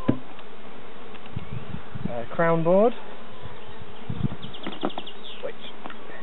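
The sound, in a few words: honeybees buzzing in an open British national hive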